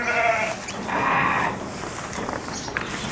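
Newly acquired sheep at a hydroponic fodder farm in Karnataka give two loud, close bleats one after the other, followed by quieter shuffling.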